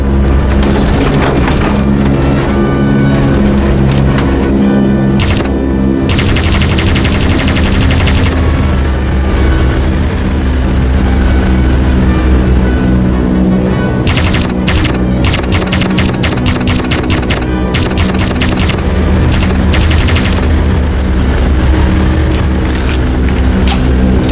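Sustained rapid bursts from a front-mounted Vickers machine gun in the aviation video game Aviators, loud and dense over a constant roar, with only brief lulls between long strings of shots.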